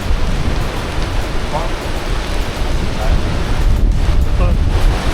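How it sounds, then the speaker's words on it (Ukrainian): Steady rain hisses on surfaces throughout, mixed with gusty wind rumble against the microphone and faint voices now and then. "знову дощик, знов ховаємося."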